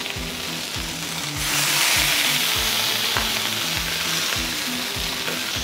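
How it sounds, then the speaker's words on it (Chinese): Chicken wings pan-fry in hot oil, sizzling loudly and continuously at close range while the wings are turned with regular, rhythmic scraping strokes, with no voices present. "再反一反佢煎一煎呢边， 啊煎到香金黄色嘅"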